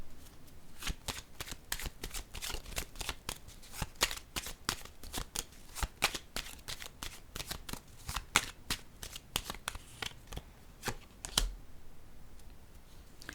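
Playing cards are handled and laid down on a table in a steady series of crisp slaps and flicks, close and quiet, one after another without talking.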